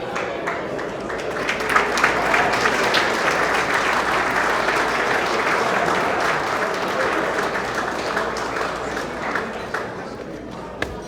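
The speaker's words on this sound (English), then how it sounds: "A round of applause for Pan-Gregorian for all that they do" Guests at the 34th annual Hermes Expo awards ceremony applaud award recipients with a long, even spell of dense clapping that holds steady for several seconds, with a few sharper claps standing out near the end.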